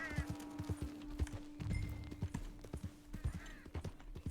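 A horse's hooves clip-clop in the video game Red Dead Redemption 2, with a run of sharp, irregular hoof knocks heard close, under a steady tone and occasional soft game sounds.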